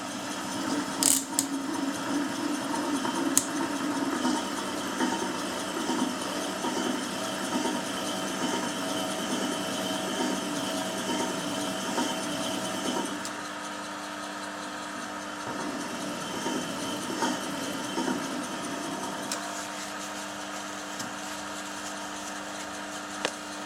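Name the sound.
lapidary quill spinning, polishing gemstone with DVD disk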